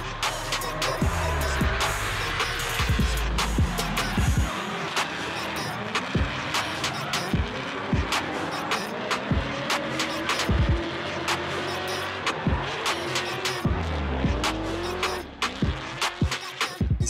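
Race car with an LS3 6.2-liter V8 producing 646 wheel horsepower, revving hard through repeated gear changes and rising engine sweeps, with sharp tire squeals and skids, loud and close throughout.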